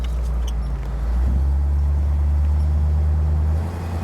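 A 1957 Ford Thunderbird convertible with the top off drives around the block, its engine a deep, steady low rumble heard from inside, loud and continuous with a slight rise partway through.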